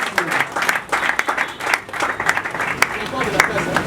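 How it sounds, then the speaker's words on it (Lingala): A crowd claps steadily at an official installation ceremony for a provincial youth league office, a loud, sustained round of applause with people talking over it throughout. "Des applaudissements."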